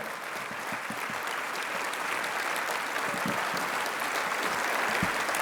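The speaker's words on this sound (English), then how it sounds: "Please join me in giving them a warm round of applause." A banquet audience at the 2022 World Citizen Award Dinner claps in a steady, dense, sustained round that holds an even level throughout, with no voices over it.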